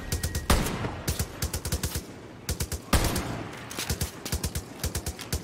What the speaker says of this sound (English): Who's shooting me? Did that guy shoot me?